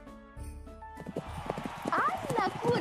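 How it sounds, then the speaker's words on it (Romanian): A horse at the races trots with quick clip-clopping hoofbeats that build in loudness, topped by a rising and falling neigh, over a soft musical backing. "Azi la cursele de cai"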